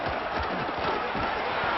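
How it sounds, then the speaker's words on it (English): A home football stadium crowd roars on third down at a Texas versus Ole Miss college game, a dense, sustained wall of cheering and yelling with no break. "Crowd getting this defense whipped up on third down."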